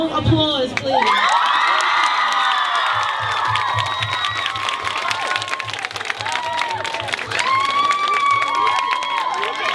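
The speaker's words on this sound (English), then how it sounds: "Warm applause, please." A fan-meet crowd in Sydney erupts in loud cheering, high-pitched screams and whoops with clapping, sustained throughout with a rhythmic clap pattern and voices mixed in.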